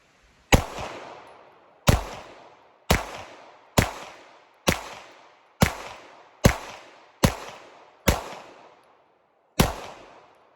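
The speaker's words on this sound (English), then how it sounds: "Let's shoot about a magazine through it" A Sig P226 Zev pistol firing ball ammunition, ten sharp loud shots at a fairly even pace of about one per second, each with a short decaying echo and silence between.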